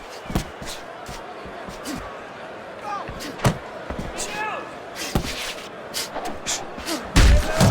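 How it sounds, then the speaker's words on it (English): Punches landing in the Fight Night Champion boxing video game, repeated thudding and slapping impacts in irregular flurries under a steady crowd bed, with commentary voices. "Blocks a shot, brings back the uppercut."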